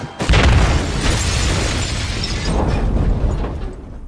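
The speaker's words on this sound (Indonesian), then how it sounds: "membuangnya tepat saat bom meledak" A bomb explodes at an airport in a film scene: a sudden loud, close blast followed by a long, heavy roaring rumble and debris that slowly fades.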